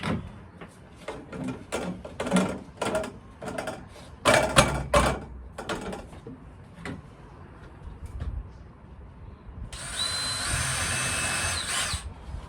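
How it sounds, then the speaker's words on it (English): Assorted knocks and clatter build to a steady, high-pitched whirring of a power drill boring through a ceiling panel inside a narrowboat for about two seconds. "I'm going to drill it out."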